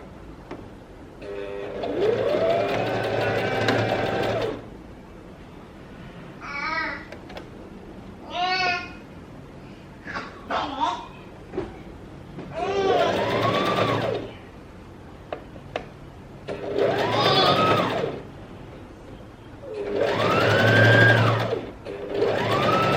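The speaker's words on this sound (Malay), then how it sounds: "So kita akan start jahit lah." A sewing machine stitching a sleeveless dress runs in repeated bursts of fast whirring needle chatter, stopping and starting between short pauses, close and clear.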